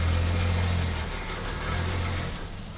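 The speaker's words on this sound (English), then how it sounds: "So we're letting the car run." An HQ Holden with a swapped LS V8 idling close by, a steady low rumbling engine note that stays even throughout, no voices.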